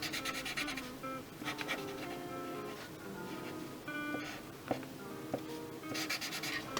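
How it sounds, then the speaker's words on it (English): A marker's chisel tip rubs back and forth across paper while coloring a large area of a drawing, faint close scratchy strokes in a steady repeating rhythm. "Actually, I'm gonna use the chisel tip because this is a really large area."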